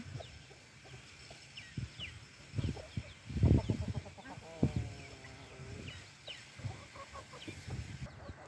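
Hens in a backyard coop with young chicks cluck repeatedly in short bursts, with one louder run of rapid clucks near the middle, set against faint background noise.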